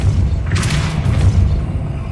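A Depulso spell cast in Hogwarts Legacy lands as a deep, booming whoosh with a brighter burst through the middle, set over a steady low rumble of game ambience.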